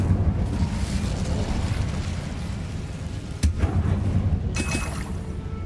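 An Incendio fire spell in Hogwarts Legacy roars as a steady, loud rushing blaze, punctuated by a sharp crack midway and a brighter flaring burst toward the end.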